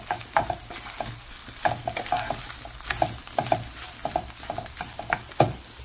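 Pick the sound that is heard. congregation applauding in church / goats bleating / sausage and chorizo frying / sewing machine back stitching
sausage and chorizo frying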